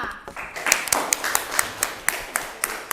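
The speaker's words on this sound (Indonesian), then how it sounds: "Sekarang kita berikan tepuk tangan untuk kelompok 5." A school class claps for a student presentation group, scattered sharp hand claps building into a steady round of applause from the room, with no speech over it.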